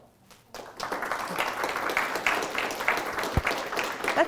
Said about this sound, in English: That's awfully polite applause for some awfully impolite poems